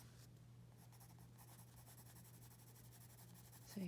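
A soft pencil shades and blends on paper while a bird is drawn, a faint continuous scratchy rubbing with gentle back-and-forth strokes, close and quiet over a low hum, with no talk.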